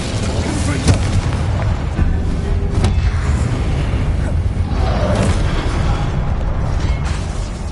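An Incendio fire spell cast in the Hogwarts video game, surrounded by heavy combat: loud, steady roaring booms and bursts fill the whole stretch, with a few sharper cracks standing out.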